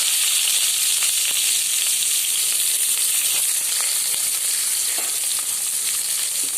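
Large onions sizzle in hot oil in a pan with mustard seeds, fenugreek and curry leaves for a Tamil kara kulambu, a steady, close, bright frying hiss with occasional stirring clicks and no voices.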